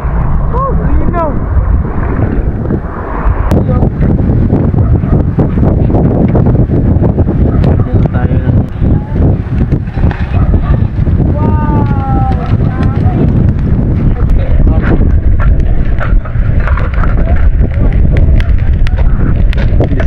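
Heavy wind off the open sea buffets the microphone in a constant roar on a beach in Lobo, Batangas, with people talking intermittently beneath the gusts.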